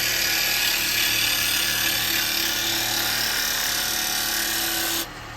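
A woodturning gouge riding its bevel as it cuts wood on a lathe gives a steady, loud, close whirring scrape with a constant motor hum beneath, continuing without a break for about five seconds before it suddenly drops away.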